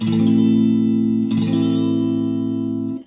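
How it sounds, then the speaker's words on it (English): Electric guitar with effects strumming an E-shaped minor barre chord twice, thick sustained distorted chord ringing loud and close, restruck once midway, then cut off; no speech. "So that is basically your most common E-shaped minor bar chord."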